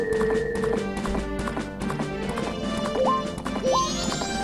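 Horse hooves clip-clop at a steady trot in Zelda: Majora's Mask, the rhythmic game footfalls sitting under continuous background music with a couple of short rising chimes.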